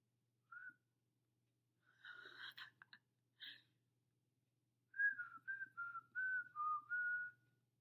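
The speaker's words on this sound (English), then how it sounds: "Yes, I can whistle." A person whistles a short, wavering tune in several separate phrases with pauses between, close and clear in an otherwise quiet room.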